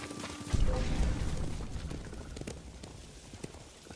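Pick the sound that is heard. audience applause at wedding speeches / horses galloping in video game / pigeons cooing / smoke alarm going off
horses galloping in video game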